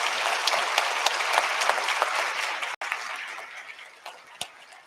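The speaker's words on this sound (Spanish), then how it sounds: "vamos a darle un aplauso a nuestros compañeros" A university forum audience applauds the speakers in a steady, even wash of clapping that holds for several seconds, with a brief dropout partway through and a few louder claps near the end.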